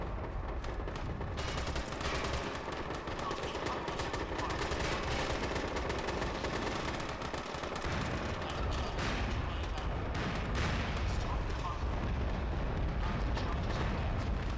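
Bunker demolition in the shooter game MAG, a dense, sustained roar of blasts and rumbling debris layered with gunfire, loud and continuous throughout with no clear pauses.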